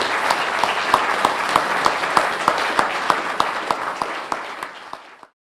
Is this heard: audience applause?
yes